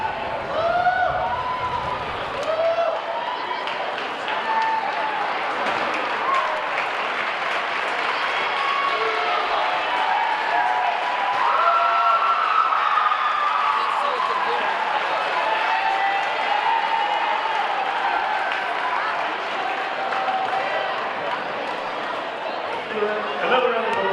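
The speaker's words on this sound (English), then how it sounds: "Another round of applause for our awesome music program and you, the community" A crowd in a high school gym applauds at a basketball game, with sustained, fairly loud clapping and cheering that lasts the whole stretch while a voice talks over it.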